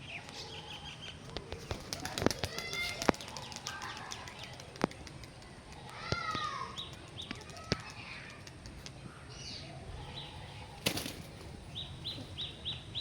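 Young pigeons are released into the sky. Wings flap in several bursts, mixed with soft cooing and other bird calls, against a faint outdoor background.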